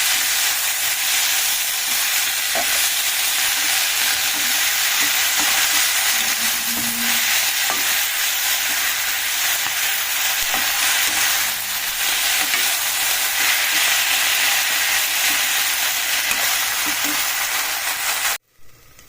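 Green chili paste fries with fenugreek leaves in a pan as a continuous close hiss, with occasional stirring scrapes. The sizzle holds steady for the whole stretch and then cuts off abruptly at the very end.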